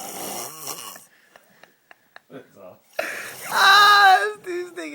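A person snores in loud, drawn-out breaths broken by quiet pauses, while other people talk nearby.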